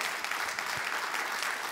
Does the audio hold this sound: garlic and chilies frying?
no